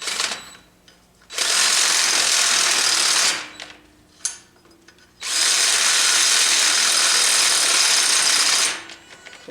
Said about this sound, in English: the piece that I'm drilling through is very, very hard steel